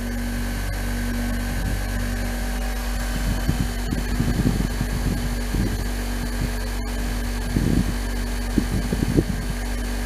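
A repaired diamond disc grinder runs with an unbalanced plastic wheel, a steady close electric hum with a low tonal drone, broken by irregular soft thumps and wobbling bursts as the wheel turns unevenly.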